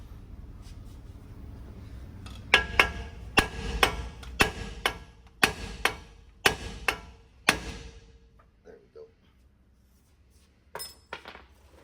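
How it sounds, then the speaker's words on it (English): A hammer smacks a truck's lower control arm ball joint in a quick series of sharp metallic strikes, about a dozen ringing blows in an uneven rhythm, then a few scattered taps. "One good smack there. Let's smack it down here."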